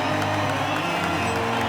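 A crowd claps and cheers at an outdoor bull contest, a dense, loud, steady roar of applause and scattered whoops that fills the whole moment.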